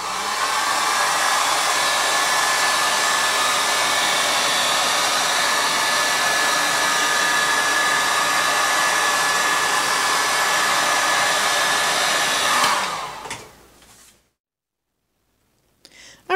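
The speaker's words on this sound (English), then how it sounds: "I'm going to get my heat gun." Heat gun blowing hot air over a poured resin flip cup, a loud steady whooshing roar held close for about twelve seconds before cutting off into silence and a final click.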